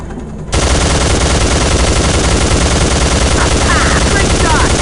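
Gunfire in the PC game Soldier of Fortune II: Double Helix, a loud, sustained rapid machine-gun burst that starts abruptly after a brief quieter moment and continues unbroken.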